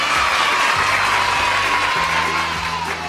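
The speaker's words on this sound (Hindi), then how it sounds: "तालियां।" Children clap together in a lively burst of applause that carries steadily for a few seconds, mixed with a little cheering and crowd noise.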